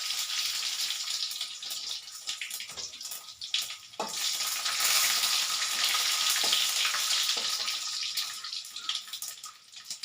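Mustard seeds and dried red chillies fry in hot oil for a beans poriyal, giving a steady close sizzle with scattered small pops and crackles throughout.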